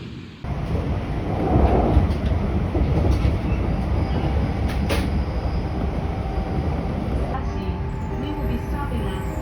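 A train on a railway in Japan gives off a loud, steady rumble and rattle that carries on without a break, with the dense, close noise of riding on board.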